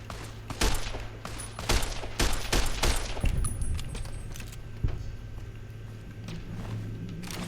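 Gunfire in the video game Fallout New Vegas, with a burst of sharp, closely spaced shots in the first few seconds followed by a lone report, loud over a steady background drone and without talk.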